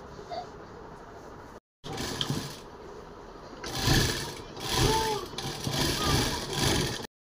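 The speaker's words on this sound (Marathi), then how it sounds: "मग इथे हे स्टिच करायचं आहे." A sewing machine stitches tassel cords in bursts, running loud and close in several runs separated by short pauses, with a brief stop early on.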